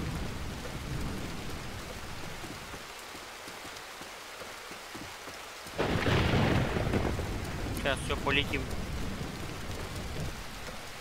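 Steady heavy rain hisses throughout in a video game, with a sudden louder rumble of thunder midway; a voice says a few words under the downpour.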